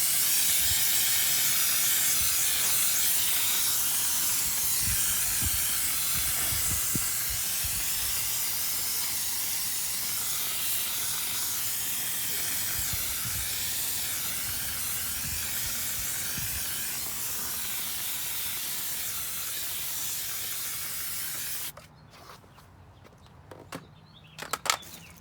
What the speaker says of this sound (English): these I'm just going to hit with straight steam